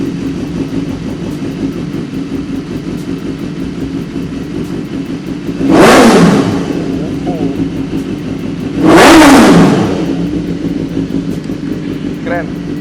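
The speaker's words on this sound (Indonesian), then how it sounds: "itu dia tadi suara dari motor S1000R ini." A BMW S1000R naked motorcycle idles with a steady low burble, then gets two sharp throttle blips a few seconds apart, each revving up quickly and falling back, loud and close, with a voice talking over the idle.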